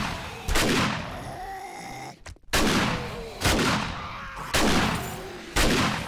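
Zombies being shot in the 7 Days to Die video game: about five loud, sharp gunshots at a steady pace, roughly one a second, each followed by a brief decaying rumble.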